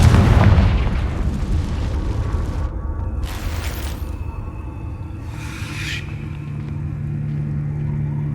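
The Confringo blasting spell in Hogwarts Legacy goes off as a heavy, close explosion. It starts with a loud boom and fades into a long rumble, with bright crackling bursts on top.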